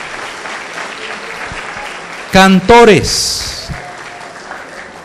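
Congregation applause at a church service, a soft steady patter of clapping that runs throughout while someone briefly speaks over it into a microphone.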